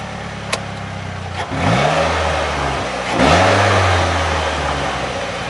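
A 2019 Polaris Slingshot fires up and then revs, its engine and intake induction noise rising into a loud, throaty drone with a second surge about two seconds later, close and alone.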